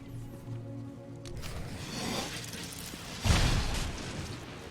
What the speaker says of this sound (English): Not a big explosion. Nothing to walk away slowly from.